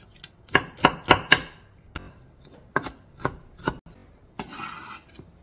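Cheongyang chili peppers minced with a knife on a cutting board: a burst of quick, crisp chopping taps followed by a few slower, spaced cuts and a short scraping sound, close up, with no talk.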